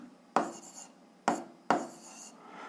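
Pen strokes on paper while a 7th-grade algebra problem is worked out, heard as three short, faint scratching strokes in a quiet room.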